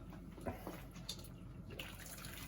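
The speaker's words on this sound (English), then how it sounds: "So just draining out that beef stock." Beef stock made with onion peelings is poured off and drained in a kitchen, a soft liquid splashing and trickle with a few brief louder pours, faint and close.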